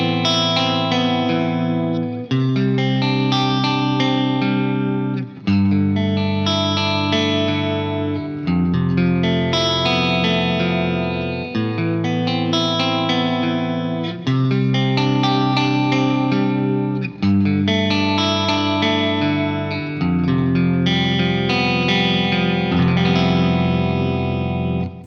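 Effects-laden electric guitar rings out sustained sus chords, chorus and reverb shimmering, a steady sequence of strummed chord changes every couple of seconds, loud and close with no talking.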